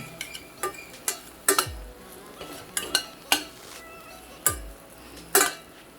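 Bread halwa is stirred and sautéed in ghee in a pan, with a spoon striking and scraping the metal in sharp, irregular clinks over a faint background hiss, close and fairly loud.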